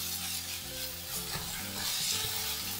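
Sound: tomato sauce sautéing in pan for prawn fry

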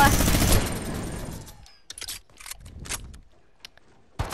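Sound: infantry rifle firing rapidly in a video game

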